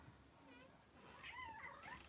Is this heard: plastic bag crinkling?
no